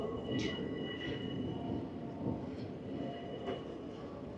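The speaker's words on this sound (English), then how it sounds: "So that is the train coming in to London Bridge Station." A train pulls into London Bridge Station, a steady low rumble of wheels and carriages close by, with faint high squeals and clicks of rails rising and falling over about four seconds.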